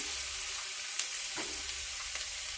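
Sliced onions and soaked chana dal sizzle steadily in hot oil in a pan, a continuous close frying hiss with a couple of faint stirring clicks.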